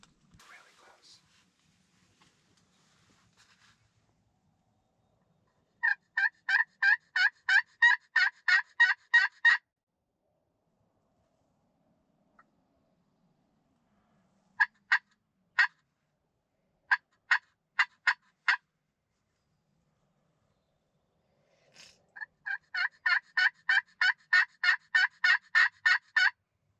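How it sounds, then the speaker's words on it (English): Wild turkeys gobble during a hunt in Texas, heard as loud, rapid, rattling bursts: a long run at the start, a few scattered single notes in the middle and another long rattling series at the end, with quiet in between. "let's see if any turkeys come in"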